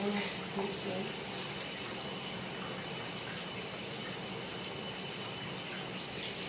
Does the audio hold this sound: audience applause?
no